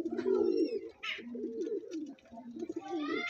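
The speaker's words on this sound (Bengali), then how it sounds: "তো বন্ধুরা এই একটা সবুজ নর পায়রা দেখাচ্ছে" A green male pigeon of the dobaj type, an Andhra pigeon, coos close by in repeated rolling, throaty phrases with brief pauses between them, loud and clear with no talking over it.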